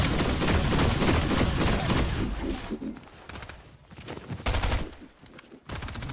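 Rapid automatic gunfire from the video game Fortnite rattles out in loud, dense bursts, easing into scattered quieter shots and short pauses before another burst.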